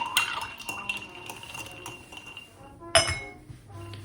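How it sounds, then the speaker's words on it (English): A martini stirred with ice in a mixing glass: close, bright clinks and tinkling of ice against glass, with one sharper clink near the end, fairly quiet and without talk. "quick little stir down, make it nice and cold."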